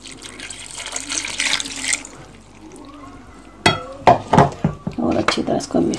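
A cup of water poured into lamb mince in a pot for shammy kebab, a splashing pour for a couple of seconds, then clinking and scraping as the mince is handled, with someone speaking over it.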